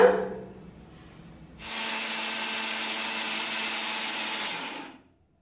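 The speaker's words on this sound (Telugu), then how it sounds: "అలాగే ఇందులోకి యాభై గ్రాముల వరకు సాల్ట్ కూడా యాడ్ చేసుకొని ఫైన్ పౌడర్ లాగా గ్రైండ్ చేసుకోవాలి" A mixer grinder whirs loudly for about three seconds, grinding tamarind with salt into a fine powder, starting abruptly after a brief quiet rattle and cutting off cleanly.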